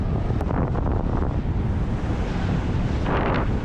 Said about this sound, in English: little windy